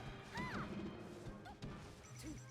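Down smash attacks in a Super Smash Bros match land as quiet, quick crashing hits with swishing game effects. A few separate impacts come over a low background.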